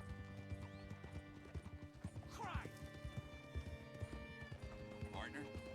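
Horse hooves clip-clop at a steady walking pace in Red Dead Redemption 2, with an occasional whinny and a soft game background. People talk throughout, over the hoofbeats.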